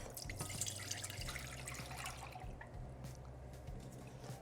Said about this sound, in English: adding in my broth